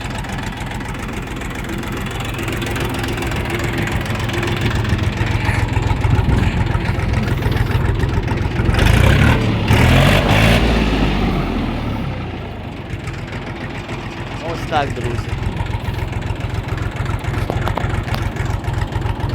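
A Kentavr 244SX Chinese mini tractor engine runs steadily in low first gear, a loud continuous diesel-like drone that swells midway, with a few brief spoken words from a man.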